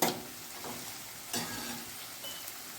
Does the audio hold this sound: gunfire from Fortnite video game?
no